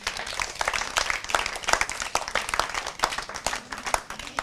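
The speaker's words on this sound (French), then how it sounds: "Applaudissez pour les parrains et marraines." An audience applauds sponsors at an association event with brisk, close clapping, many hands striking in an uneven rhythm at steady loudness throughout.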